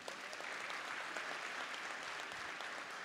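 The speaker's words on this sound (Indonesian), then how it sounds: "mari kita berikan tepuk tangan" Steady, dense applause from a conference audience at the opening ceremony of an Indonesian foreign policy conference, sustained and even throughout with no voices over it.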